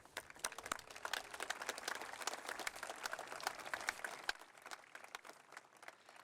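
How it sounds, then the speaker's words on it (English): Outdoor Veterans Day crowd applauding veterans, a fairly quiet spread of individual claps with sharp distinct hand strikes that thins out toward the end. "let's give a round of applause to the members of"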